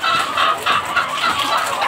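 Several chickens on a poultry farm cluck steadily and close by in the morning, their clucks overlapping in a continuous busy chatter with no talking.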